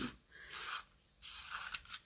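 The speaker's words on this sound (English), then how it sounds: "I do apologise for the sound of the sharpener as well" Two bursts of scratchy, grinding scraping, close and fairly quiet, separated by a short pause, like a pencil being turned in a sharpener.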